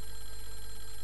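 A telephone ringing inside a building in the horror game Clock Tower, a steady electronic ring heard alone and holding at one level through the short moment.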